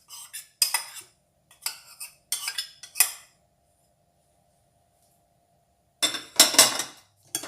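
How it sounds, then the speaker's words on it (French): A spoon mixes oat flakes in a bowl for vegan cereal bars, making several close bursts of scraping and clinking against the bowl, separated by silent pauses, then a final louder cluster. "on mélange l'avoine, enfin les flocons d'avoine"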